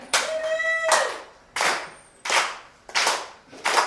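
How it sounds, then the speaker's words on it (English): An audience at a Halloween horror rap battle show claps together in a steady beat: about five loud, sharp, reverberant hand claps spaced evenly. A brief tonal squeal sits under the first clap. "Put your hands together, don't stop clapping."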